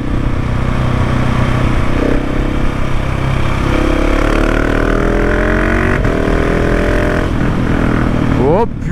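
A KTM 690 SMC R single-cylinder motorcycle from 2019 with a new Wings exhaust silencer, close and loud, idling roughly then revved repeatedly with rising and falling engine pitch, continuous throughout.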